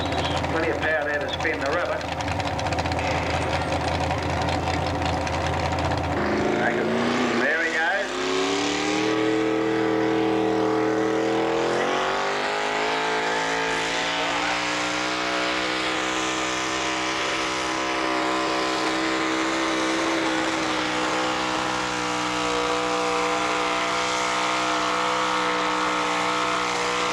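A heavily loaded tractor at a 1986 tractor pull in Colbinabbin roars under strain with its rear tyres spinning, first a rough engine rumble, then a long rising, sustained howl. A commentator talks throughout.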